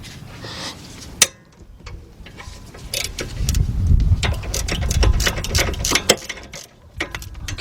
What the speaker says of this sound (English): let's get our ratchet in here